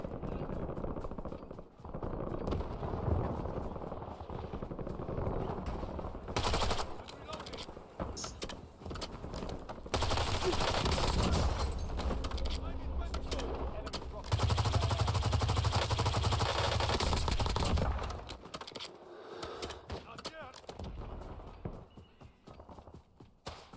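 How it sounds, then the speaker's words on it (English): Gunfire in Call of Duty Warzone, bursts of loud rapid shots and machine-gun fire in a video game, dense through the middle with quieter stretches at the start and end, with people talking over it. "My gun feels extra loud right now."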